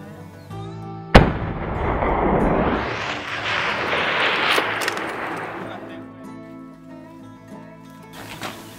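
A single loud, close rifle shot fired at an aoudad ram during a desert sheep hunt cracks out sharply, followed by a long rolling echo that fades slowly over several seconds.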